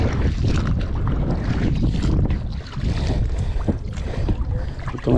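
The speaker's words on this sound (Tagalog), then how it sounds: "Lakas lang ng hangin pa." Strong wind buffets the microphone with a loud, continuous roar and gusty low rumbling, over the sound of moving water nearby at a snakehead fishing spot along C6 Road, Taguig.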